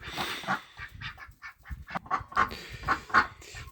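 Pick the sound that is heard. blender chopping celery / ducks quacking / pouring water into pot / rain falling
ducks quacking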